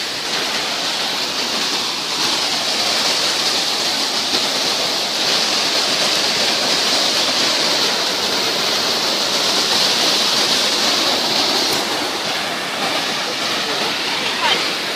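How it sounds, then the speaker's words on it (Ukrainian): A large mountain waterfall in the Carpathians gives off a continuous, even roar of rushing water. It is fairly close and steady, with no clear talk over it. "Дивіться, який там ще класний великий водоспад."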